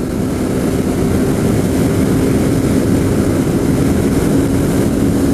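A Suzuki Gixxer SF 155 BS6 motorcycle at high speed, past 100 km/h toward about 126: a loud, unbroken engine drone buried in rushing wind noise, constant throughout with no speech.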